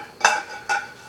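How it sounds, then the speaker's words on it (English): Two quick clinks of a utensil against a frying pan while an egg is flipped, each a short bright metallic scrape, close and clear with no voice. "Let me just flip this egg right here"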